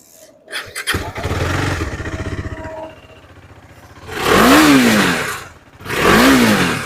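A 2018 motorcycle at a used bike showroom starts after a few clattering attempts, then idles and gets two loud throttle blips that rise and fall, heard up close with no talking.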